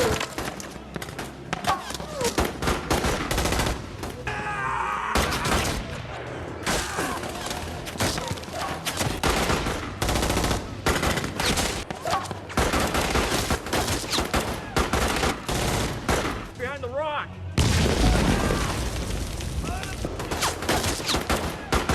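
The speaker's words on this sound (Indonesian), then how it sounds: "tiba-tiba pasukan Horiuchi menyergap dan menembaki mereka sehingga baku tembak pun tak terelakkan" Firefight between Japanese and American soldiers, with dense rapid gunfire bursts and loud shots filling the scene almost without pause, mixed with thuds, under a voice talking.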